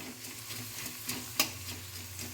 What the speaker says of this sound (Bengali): পেঁয়াজ ভাজতে অনেকটাই দেরি লাগে